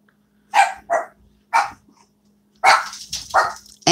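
Dogs bark loudly and close by in a short burst of several sharp barks as the owner arrives home, with a steady low hum beneath.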